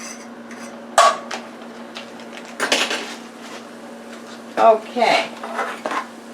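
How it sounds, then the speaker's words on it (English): Metal utensil clatters and scrapes against a pan while sweet peppers and other ingredients are stirred together for a chicken shepherd's pie, in several irregular bursts over a steady low hum, with a brief spoken word. "I'm going to mix that in with the sweet peppers"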